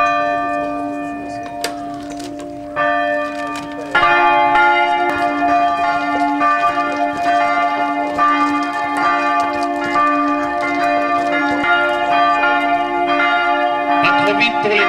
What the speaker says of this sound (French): Pas trop vite pour les cloches